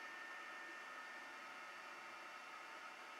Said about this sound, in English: And here's it printing after the driver change. It has quieted down the motor noise a lot.